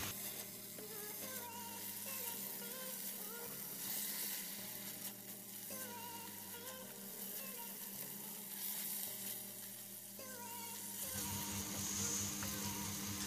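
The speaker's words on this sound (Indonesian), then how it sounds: "kita masukkan cumi yang sudah kita potong-potong tadi ya, teman-teman, dan masak sampai bumbunya meresap" Cut squid fries in a pan for sambal goreng cumi with spice paste and oyster sauce, a steady loud sizzle with occasional stirring scrapes continuing throughout.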